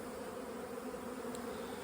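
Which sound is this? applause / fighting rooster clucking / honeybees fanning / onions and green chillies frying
honeybees fanning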